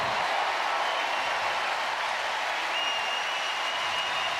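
A stadium crowd gives Bo Bichette a sustained ovation at a Toronto Blue Jays baseball game against the New York Mets, dense applause and cheering holding at an even, loud level throughout.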